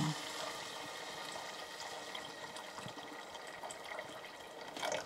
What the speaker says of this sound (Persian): من حالا آبی که جوشیده رو میریزم.